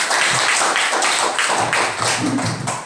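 An audience of students breaking into a dense, sustained round of clapping that fills the whole moment, close and loud.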